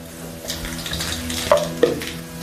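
Mustard seeds sizzle and crackle in about three spoons of hot oil in a pan as tempering for a mashed potato filling. A steady low frying hiss carries two sharper pops near the end.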